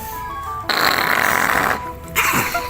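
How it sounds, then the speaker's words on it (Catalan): A comic fart sound effect for an ox in a Catalan shadow play blares loudly in two long, buzzy bursts separated by a short pause, with faint tonal background music underneath. "Va arribar un moment que el pobre bou ja no podia més i va fer un pet bestial"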